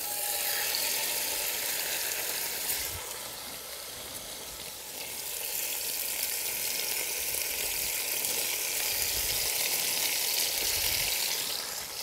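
Meat searing in hot oil inside a Dutch oven: a steady, dense sizzle that runs loud and continuous throughout, dipping slightly partway before swelling again, with no voices.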